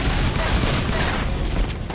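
A turret is destroyed in the mobile battle game Granger brawl: a dense, noisy crash of booming blasts and crumbling debris, loud and continuous through a short burst of game effects.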